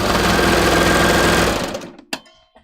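A sewing machine, likely a serger with its knife, chains off thread after sewing a knit hood: a loud steady whirring run that stops abruptly, followed by a couple of brief clicks and taps.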